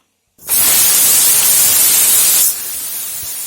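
Broccoli hits hot oil in a pan with a sudden loud, bright sizzle that holds steady for two seconds, then settles into a quieter continuous frying hiss.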